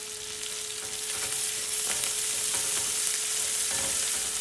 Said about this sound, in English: They're going into the oil, they're frying.